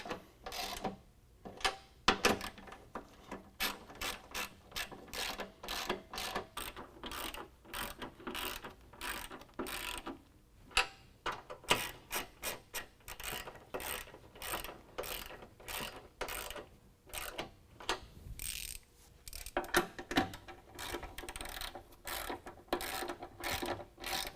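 A ratchet snugs 13 mm nuts onto frame studs while side steps are fitted to a 2019 Ram 1500. It gives rapid, close pawl clicking in repeated bursts with brief pauses between strokes, and no one speaks.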